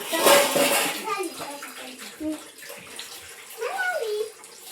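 Water splashes and pours in a vessel while people talk over it, with a short rising vocal sound near the end.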